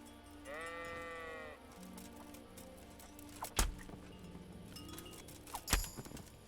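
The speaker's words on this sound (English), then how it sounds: "we can't catch a single sheep" Synthetic-sounding sheep bleats in the video game Kingdom Come: Deliverance, a wavering baa near the start, followed by game sound effects and two sharp hits.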